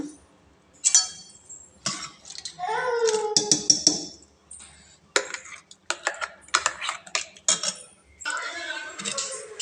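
Ground spice paste for a kadalekalu huli saaru is scraped from a grinder into a cooking pot, giving a run of irregular metallic clinks and scrapes of utensils, with a voice talking over them.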